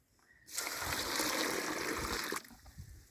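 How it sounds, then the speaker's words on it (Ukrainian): Hot water poured onto a heap of quicklime to slake it: a steady, loud rushing splash that lasts about two seconds, then cuts off and leaves quiet gurgling and trickling. "Ми його заливаємо гарячою водою."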